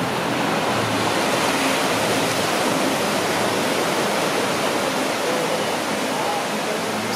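Steady, loud broadband wash of surf breaking at Fisherman's Beach in Mazatlan, a continuous roar with no distinct individual wave crashes and no voices.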